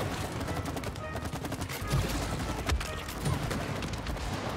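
Rapid, continuous gunfire in It Takes Two as a nest is shot at, dense overlapping bursts sustained throughout at steady loudness, with a couple of heavier thumps mixed in.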